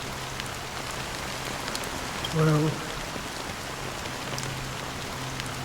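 Rain falls steadily as a constant, even hiss of drops on a surface, soft and continuous from start to finish, with a brief spoken word midway.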